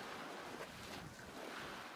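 Heavy storm waves surging against a concrete sea wall on the Odesa shore, a constant broad roar of surf mixed with wind buffeting the microphone, with no voices.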